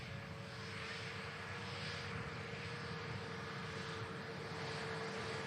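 A large jet on the ground at Manchester Airport about to taxi, a steady distant engine roar with a sustained whine, continuous and fairly faint throughout.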